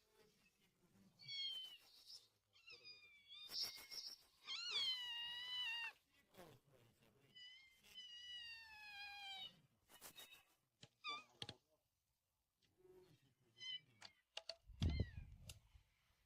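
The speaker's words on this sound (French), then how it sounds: "qu'est-ce qu'on entend? Un chat." A cat meows repeatedly in a series of clear, wavering calls of varying length, close by and fairly loud, with small clicks and a brief thump near the end.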